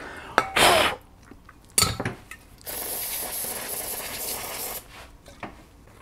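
Cleaner spray hisses in short bursts and one long sustained blast while a 1999 Club Car DS gas golf cart carburetor is rinsed, with metallic clinks of the part being handled between sprays, close and fairly loud.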